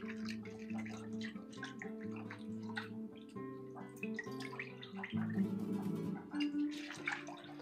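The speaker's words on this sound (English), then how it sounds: "I will wash this twice." Shrimp being washed in water, with splashing, sloshing and dripping in a bowl, close and moderately loud with a few brief louder swishes, no talking.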